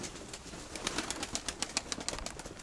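Pigeons at a loft, a quick run of soft cooing and sharp clicking or flapping bursts, faint and close, with no voices.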